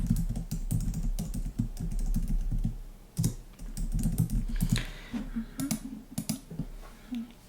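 Rapid keyboard typing, close and crisp, with bursts of clicky keystrokes and short pauses between runs, in a quiet room.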